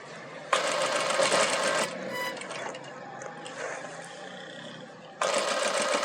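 Sewing machine stitching the front placket of a shirt, loud rapid bursts of stitching separated by a quieter pause, close up, with faint talk in the gap.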